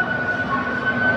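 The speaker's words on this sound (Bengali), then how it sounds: "দেখতে পাচ্ছেন ওই যে ট্রেন আসছে।" A train at the Fantasy Kingdom amusement park approaches with a steady, fairly loud rumbling drone and a sustained high whining tone running through it, with no talk.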